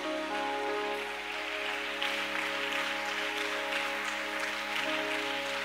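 A church congregation applauding God, a steady wash of clapping that patters like rain under sustained tonal music, moderately distant and continuous throughout.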